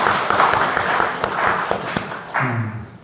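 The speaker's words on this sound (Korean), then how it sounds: "박수를 치려면 확실하게 쳐주세요." A church congregation applauds the choir during a Sunday morning service, with an even wash of clapping that fades out near the end as a voice begins speaking.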